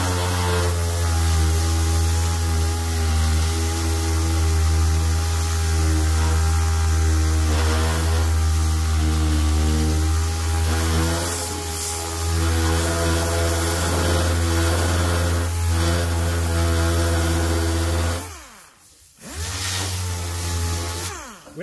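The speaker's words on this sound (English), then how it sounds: "So we're going to finish up this sanding real quick, get these edges feathered out right here" A power sander grinds surface rust off a truck fender, a loud steady motorized whine running continuously for about eighteen seconds, dipping briefly, then resuming near the microphone.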